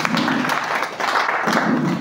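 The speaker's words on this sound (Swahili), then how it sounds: "Pigia Yesu makofi" A church congregation claps for Jesus during a Swahili marriage teaching, with dense, continuous applause filling the room at steady loudness.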